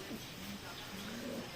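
Racing pigeons murmur soft, low coos inside a pigeon loft in Feni. The calls are faint and intermittent over a steady background hiss.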